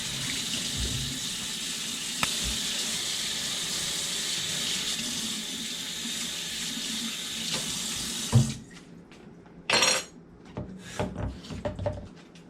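Water pours steadily from a tap onto a teaspoon in a sink for several seconds, then stops, followed by a few short splashes and clatters.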